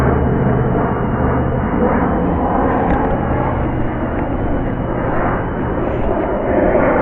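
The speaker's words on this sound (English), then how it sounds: "Float plane." A float plane with pontoons passing overhead near a lakeside boathouse, a loud, steady, droning engine rumble that fills the whole stretch without break and sounds muffled and bass-heavy.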